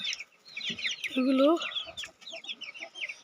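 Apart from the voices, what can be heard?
chickens clucking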